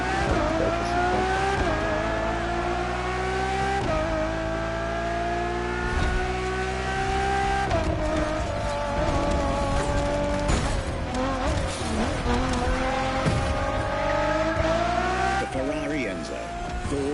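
A Ferrari supercar engine roars and revs continuously in the racing game The Crew Motorfest, with rising and falling gear pitches, tire squeal and a voice talking over it.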